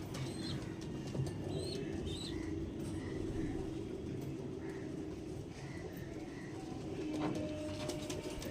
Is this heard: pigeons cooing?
yes